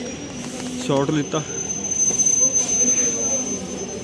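A train rolls past a station with a low rumble and a thin, high wheel squeal, while a person briefly speaks over it.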